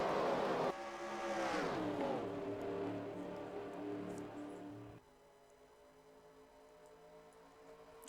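Stock cars race at Talladega in a sim racing video game, a loud engine whine that sweeps and drops as cars pass close by, then cuts to a quieter, distant engine drone.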